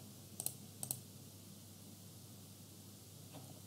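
A computer mouse clicks twice in quick succession, crisp but faint over a steady low hiss, followed by a softer single click near the end.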